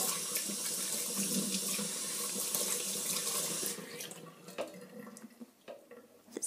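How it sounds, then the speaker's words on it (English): Tap water runs steadily into a kitchen sink while pork belly pieces are scrubbed with a brush, a continuous close splashing wash that thins out partway through into scattered drips and scrubbing sounds. "I put them into the sink. Use a brush. It's easier to wash them off. Like this. Give it a good wash."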